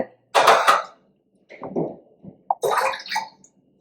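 Water is poured in several splashing bursts into rice flour for mixing, about one and a half cups of water per cup of rice flour, loud and close with brief pauses between pours.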